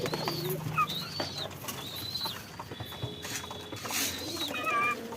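Caged pet pigeons coo in soft, repeated phrases, mixed with higher chirps from other birds and a faint patter of rain in the background.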